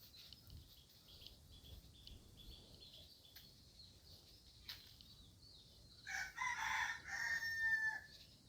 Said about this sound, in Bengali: কলা গাছ খেয়ে ফেলছে মুরগি